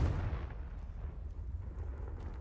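A Confringo fire-blast spell explodes in the Hogwarts Legacy video game, one deep booming burst at the start that settles into a low rumbling tail, heard alone.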